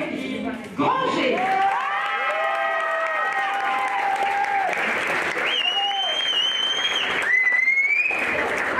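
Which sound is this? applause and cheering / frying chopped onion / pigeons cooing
applause and cheering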